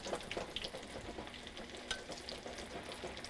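Food fries in hot oil in a pan that is gently shaken, giving a soft, steady sizzle with scattered crackles and light rustling, heard close up and quietly, with no voices.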